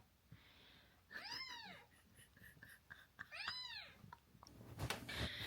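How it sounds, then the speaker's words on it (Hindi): A cat meows twice, faint and drawn out, with rustling and soft thumps in the background between the calls. "ये देखो, आवाज़ आ रही आपको बिल्ली की?"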